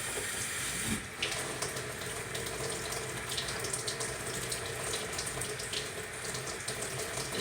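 Tap water pours steadily to water a freshly repotted house plant, a continuous close splashing rush with no voices.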